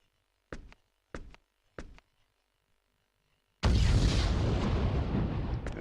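In the game Star Ocean: Till the End of Time, three short sharp bursts sound a beat apart, then a silence, then a loud roaring explosion erupts and rumbles on steadily.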